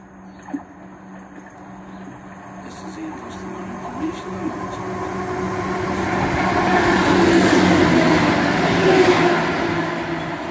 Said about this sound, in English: Passing through is a ScotRail Class 170 on the 1L60 from Arbroath to Edinburgh Waverley.